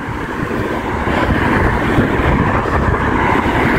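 Steady, loud wind rushes and buffets against the microphone while cycling in cold weather in Poland, a continuous roaring gust with no voices.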